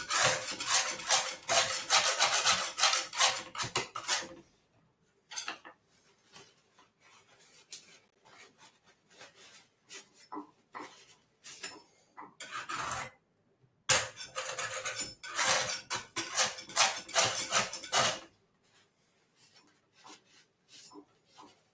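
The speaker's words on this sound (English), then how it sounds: "So give it a bit of a scrape and then a wipe." Oil paint palette being scraped and then wiped clean, with bursts of rapid rasping strokes, a quieter stretch of lighter rubbing and another burst of vigorous scraping, close and without talk.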